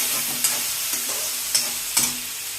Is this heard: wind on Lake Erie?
no